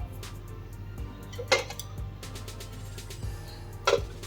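Small bowls of cupcake batter set onto a perforated steamer plate inside a kadai, two sharp metallic clinks standing out over a quiet steady hum.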